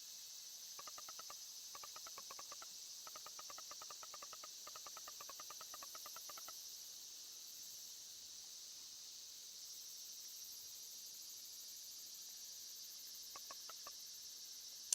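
Cicadas from the video game Eastward, a constant high, thin shimmering drone throughout, with bursts of rapid clicking chirps near the start and again near the end, faint and without speech.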